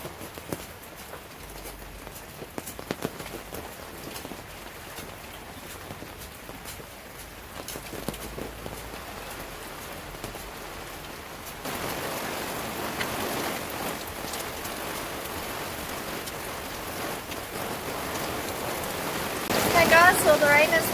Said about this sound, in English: so the rain has come.